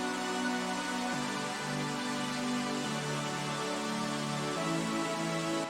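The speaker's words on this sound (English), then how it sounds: "super saws that are super famous and common in future bass" Future bass supersaw synth chords from Vital or Serum presets play as a thick, bright, sustained wall of detuned saw tones, changing chords every second or so at a steady loud level.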